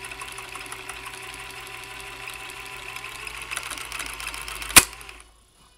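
A vintage Janome Combi DX 502 serger sewing machine running in a fast, steady mechanical whir, with a sharp snap near the end as a needle breaks before the motor stops abruptly.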